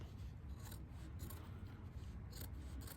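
Fabric being trimmed for a sewn pineapple crossbody bag made on an embroidery machine, with a few soft, scattered snips and rasping cuts close by over a low steady hum, no talking.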